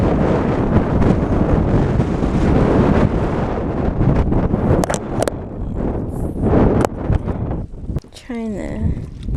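Strong gusty wind buffets the microphone while kayaking on Lake Hodges, a loud rumbling roar that fills most of the scene and eases toward the end, with a person talking over it.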